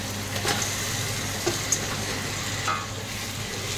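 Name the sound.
stirring potatoes into frying spice paste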